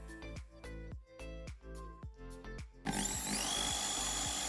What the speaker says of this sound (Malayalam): ഒരു ഡ്രിൽ ഉപയോഗിച്ച് ബക്കറ്റിൽ നാല് ഹോൾ ഉണ്ടാക്കിയതിന് ശേഷം